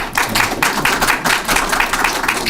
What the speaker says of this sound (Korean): 이런 큰 박수 부탁드리겠습니다